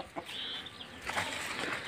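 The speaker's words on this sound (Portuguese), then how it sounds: "Olha o galo." Rooster and hens on a rural Brazilian family's farmyard, soft clucking and rustling close by in a continuous low murmur with a brief brighter call partway through, no talking.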